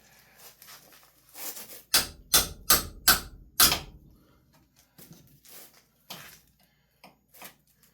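A hammer strikes metal while a gas tank is removed from a Chevrolet Corvair: five sharp, loud blows in quick succession, then a few lighter, scattered knocks and taps.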